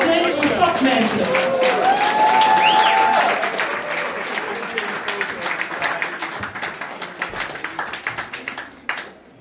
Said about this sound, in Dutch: Laatste applaus, mensen,